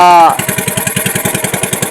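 After a brief tonal sound, a motor boat engine chugs up close with a steady, rapid thumping rhythm on a boat trip to a beach.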